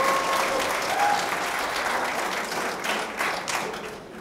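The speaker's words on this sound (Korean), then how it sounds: "다시 한번 큰 박수 부탁드리겠습니다" Audience applause at a commemoration ceremony in Gwangju, a dense, steady wash of clapping from a large crowd that holds level throughout and fades slightly near the end.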